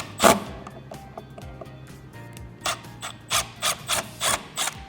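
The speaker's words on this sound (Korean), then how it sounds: "그 외에 나사들은 다 십자이기 때문에 십자 드라이버로 바꿔서 탈거를 해주겠습니다" A Phillips screwdriver backs screws out of a Tesla Model Y Juniper steering wheel. One sharp knock opens the clip, then scattered light clicks and a rhythmic run of short metallic ticks and scrapes, close up with no talking.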